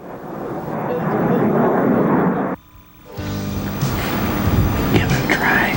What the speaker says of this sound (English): These are some of the problems in doing a video: road noise and low-flying jets.